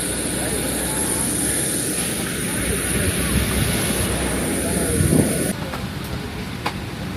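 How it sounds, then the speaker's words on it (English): A plane's engine roars loud and steady at an airport near Durban, South Africa, with a high whine above it, then drops off abruptly, leaving quieter rumbling with faint clicks and voices. "We're walking to the plane now."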